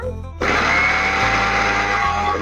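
Electric grinder powdering sugar: the motor kicks in abruptly after a brief pause and runs as a loud, steady high-pitched whir with slight shifts in pitch, no talking.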